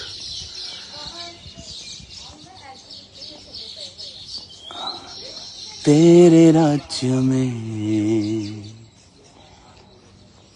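Small birds chirp and tweet in the background while someone talks, with a louder burst of sound partway through.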